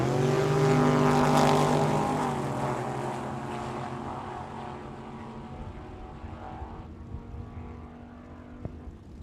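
Drag racing cars, a Camaro and a Monte Carlo, launching and running down the strip at Tucson Dragway during the Cactus Clash, a loud engine roar that peaks early then fades into the distance.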